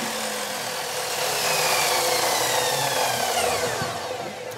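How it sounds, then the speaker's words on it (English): A miter saw cuts through a piece of wood, a close, loud whining rip that stays steady and then eases off near the end, with no talking. "let's make sure we get our piece of wood all the way to the backstop on the miter saw"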